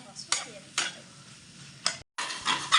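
Scraping stirs of a spatula in a pan at intervals over a soft frying sizzle of peanuts and coconut, close and fairly quiet.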